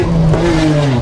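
A loud car exhaust droning close by in a steady rev, a deep diesel-ute-like rumble with the raspy edge taken out, a brief continuous burst with the pitch sliding slightly.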